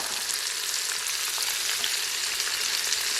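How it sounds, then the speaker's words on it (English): Carrots, onions and red and yellow peppers sauté in an Instant Pot, giving a dense, steady sizzle at close range with no break and no voices. "let's give those a stir. We'll get them sauteing"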